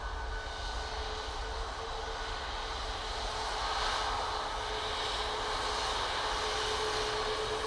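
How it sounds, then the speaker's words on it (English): A Ryanair Boeing 737 MAX taxis along a taxiway at Manchester Airport, producing a steady engine whine and broad jet hiss over a low rumble, moderately distant and even in level, with no speech. "You have a Ryanair Max coming down Victor Alpha"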